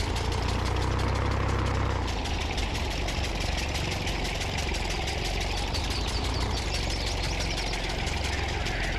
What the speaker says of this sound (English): But it's pretty cool, this mower on a tractor.